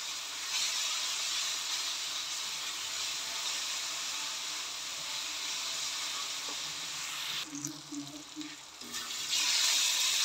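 Sausage spaghetti sauce fries in a pan with a steady, loud sizzle and hiss. About three quarters of the way through, the sound briefly dips and clatters as the sauce is stirred, then comes back full.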